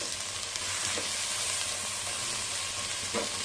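Chicken curry for a continental-style dish sizzles and fries steadily in a pan, with a couple of soft scraping stirs of the spoon breaking through the constant close hiss.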